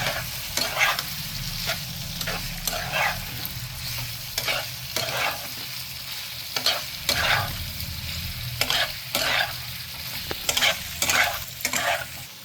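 Spiced mutton for Kolkata-style biryani being stirred in a pot, a steady frying sizzle broken by repeated rhythmic scraping strokes of the spoon against the metal, close and without speech.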